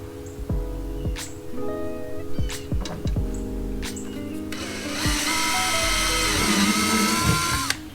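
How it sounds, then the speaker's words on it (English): A power drill bores a hole during installation of a motorcycle Tour Pak brace: a whining motor with repeated short revs, then a sustained loud drilling run toward the end. "drill the second hole"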